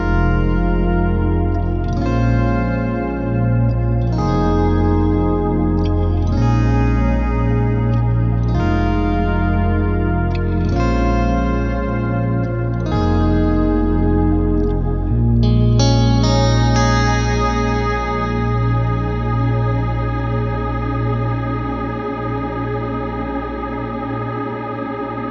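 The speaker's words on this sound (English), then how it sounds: "set up for a really nice, lush, modulated ambient reverb" Electric guitar chords swell in one after another, each blooming into a lush, shimmering reverb wash that lingers and fades at the end.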